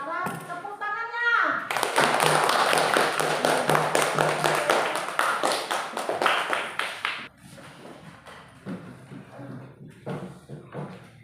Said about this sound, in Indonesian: Sekarang tepuk tangannya.